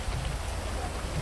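Rain falls in a GTA 5 police roleplay scene, a dense, even hiss of drops pattering on surfaces, steady and moderately loud with no breaks.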